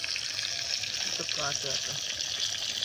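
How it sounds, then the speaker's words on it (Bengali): A big tilapia fish deep frying in oil over a fuel-fed outdoor fire, a steady loud hiss and sizzle with brief speech over it. "মাছটা কিন্তু হেভি ভাজা হচ্ছে তাই তো? হ্যাঁ একদম ডিপ ফ্রাই।"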